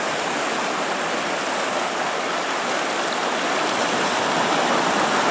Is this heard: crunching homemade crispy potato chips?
no